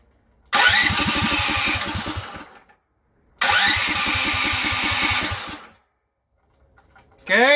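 A DuroMax 440cc generator engine with the choke wide open gets two separate cranking attempts. Each gives about two seconds of loud, sputtering, pulsing turnover and then cuts out to silence. A brief third burst begins at the very end.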